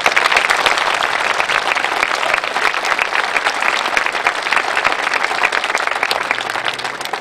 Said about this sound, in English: join me in giving a round of applause to them